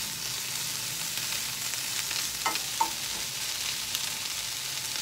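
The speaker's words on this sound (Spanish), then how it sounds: "voy a agregar las espinacas" Spinach frying in a hot pan, a steady, loud sizzle that hisses continuously, with a couple of brief stirring scrapes partway through.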